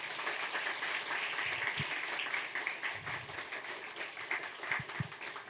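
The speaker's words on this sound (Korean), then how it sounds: "박수로 환영해 주시기 바랍니다" An audience at a school graduation ceremony applauds the teachers, a sustained wash of many hands clapping in a hall, fairly steady and moderately distant, with a few louder thumps near the microphone.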